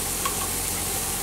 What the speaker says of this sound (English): I am chopping up and frying up the ham with garlic.